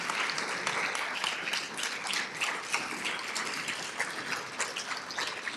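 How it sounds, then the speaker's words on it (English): Sustained crowd applause for BPC staff at the Sages Over 70 event, a continuous, even patter of many hands clapping at a moderate distance with no clear break. "let us give you a round of applause for your hard work?"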